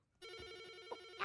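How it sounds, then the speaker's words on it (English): A telephone rings from inside a closed drawer, one short electronic ringing burst, fairly faint and alone. "Look, the drawer's ringing."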